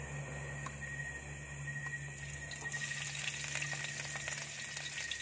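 Garlic frying in hot oil, a soft close sizzle with faint crackles and a thin steady whine in the background, quiet and without talking.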